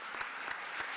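A forum audience at a summit in Cartagena gives soft, distant applause, with a few faint, rhythmic clap bursts heard at a low level.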